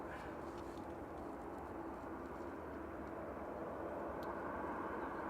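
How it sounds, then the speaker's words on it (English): At Manchester Airport, an ASL Airlines cargo plane taxis, making a steady, distant jet-engine rumble that holds level throughout beneath the open outdoor ambience. "ASL Airlines cargo plane is just taxiing out"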